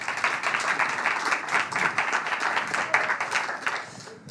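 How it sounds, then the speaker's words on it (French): A studio audience bursts into dense, close applause that holds steady for a few seconds and then tapers off. "On peut les applaudir bien fort, s'il vous plaît."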